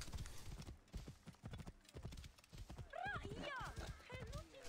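Horse hooves clip-clop at a steady galloping rhythm in Assassin's Creed Origins, with a horse whinnying partway through, all under someone talking.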